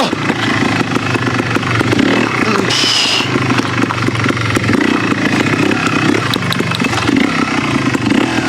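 Yamaha TY 250 trials motorcycle engine laboring as the bike climbs over a fallen tree, a steady loud mid-pitched drone with clattering and brief revving throughout.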